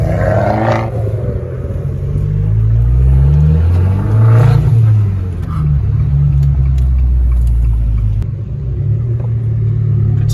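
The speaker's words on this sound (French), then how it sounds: "Les gens ils doivent être étonnés de voir des voitures aussi petites gueuler à ce point-là." Small, heavily tuned cars at an enthusiast meet rev loud engines, deep rumbling exhausts rising and falling in repeated bursts close by, with people talking faintly in between.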